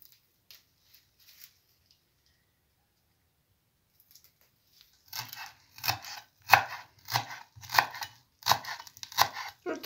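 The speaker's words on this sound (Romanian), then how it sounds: "Îl tocăm mărunt." Knife finely chopping fresh herb sprigs on a board for veal goulash, a run of close, crisp rhythmic chops starting after a quiet stretch with a few faint rustles.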